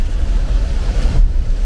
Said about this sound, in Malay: Sini hujan lebat.